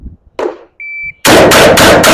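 A pump-action shotgun fires in rapid succession outdoors, loud booming blasts in a quick steady rhythm, preceded by a shot timer beep and handling noises.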